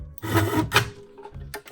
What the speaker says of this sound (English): most of these burrs just come out very easily when you scrape them